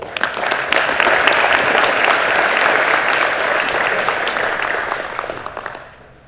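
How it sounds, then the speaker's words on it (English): Steady applause from a crowd at a racing hall of fame induction ceremony fills the room, holding strong for several seconds before fading out. "Let's give them a round of applause."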